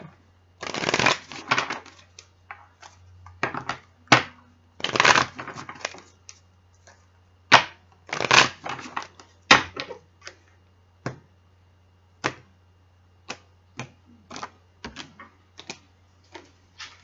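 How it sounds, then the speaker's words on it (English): Tarot cards are shuffled and dealt for a Sagittarius reading in a run of crisp riffling bursts, then sharp single snaps and slaps as cards are laid down one by one, close and clear over a low steady hum. "I'm going to go ahead and throw your cards for your reading"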